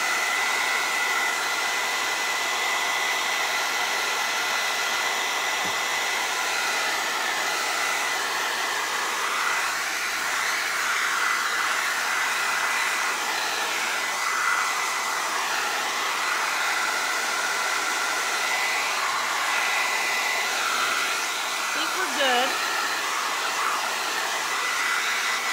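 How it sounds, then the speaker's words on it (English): A handheld blow dryer dries glass and resin art before the resin goes on, with a loud, constant, close airflow roar that holds unbroken for the full stretch and no voices over it. "I'm about to turn this blow dryer on just for like 10 or 15 seconds and it might be loud"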